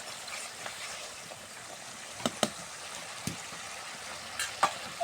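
Cauliflower fries in oil with cooked-down spice masala, giving a constant hissing sizzle broken by a few sharp stirring clicks and scrapes.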